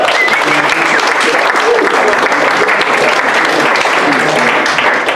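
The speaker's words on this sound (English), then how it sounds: "Give them a round of applause." Audience applause at a software testing meetup in Cape Town, a dense, steady wash of many hands clapping that holds at full strength for about five seconds with no break.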